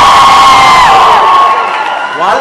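A concert crowd at a show cheers and whoops loudly, with a high whistle ringing over the roar of the audience, which keeps going steadily and fades slightly toward the end.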